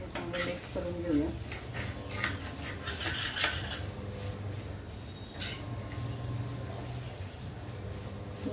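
Utensil scraping and clinking as taro leaves are mixed with flour in a dish for a Maharashtrian taro leaf recipe, with repeated close stirring sounds and faint speech in the background.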